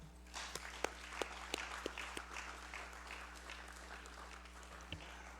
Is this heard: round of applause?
yes